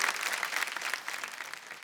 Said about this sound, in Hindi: जोरदार तालियां हो जाएं मैम के लिए